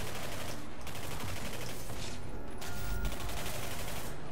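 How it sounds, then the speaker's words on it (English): Dense, continuous gunfire from the video game Singularity, with rapid overlapping shotgun blasts and combat noise sustained at steady loudness throughout, no voices. "I'm not using the submachine gun, I'm using the shotgun"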